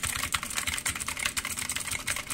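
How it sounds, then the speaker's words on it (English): Rapid, clattery keystrokes on a mini mechanical gaming keyboard with loud keys, close and steady, with no voices over them. "Take a look at the keyboard, how loud it is, all right?"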